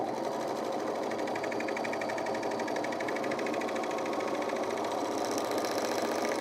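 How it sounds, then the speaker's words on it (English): Serger sewing machine stitches fabric in a fast, steady mechanical whir with a rapid rhythmic chatter, close and continuous throughout, with no talk. "All right, let's go back to the serger then."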